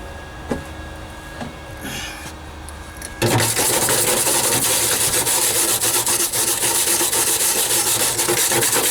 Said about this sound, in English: Grab me a brush so I can get off some of this slag.